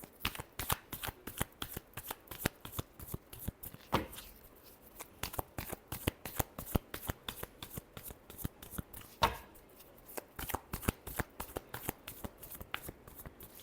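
Tarot cards are shuffled by hand in a long, quick run of crisp riffling snaps, close and fairly quiet, with a couple of louder slaps where the deck is squared.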